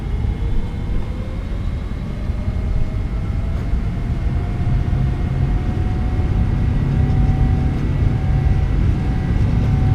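Boeing 777F jet engines at takeoff power in a flight simulator, heard as a loud, steady roar with a rising whine and broadband rumble that holds through the full stretch, with no talk over it.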